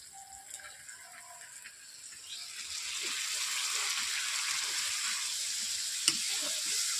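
Mustard paste frying with ginger, garlic, onion, turmeric and chilli powder in a pan, a hiss that swells into a steady sizzle under occasional stirring clicks, close and moderate, with no talking.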